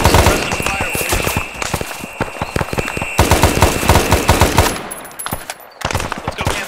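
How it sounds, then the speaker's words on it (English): Heavy machine-gun suppressive fire in the Arma 3 SOG Prairie Fire setting rattles in loud, close sustained bursts, briefly dropping to scattered shots before another burst. "Give us some suppressive fire, will you?"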